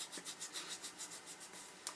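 Soft, close rhythmic rubbing of fingers on a scalp, a quiet scratchy friction repeating several times in quick strokes, with no talking.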